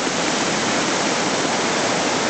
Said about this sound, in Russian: А вот водопады.